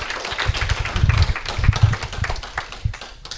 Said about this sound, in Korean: 우리 좋으신 하나님께 영광의 박수 좀 올려드리겠습니다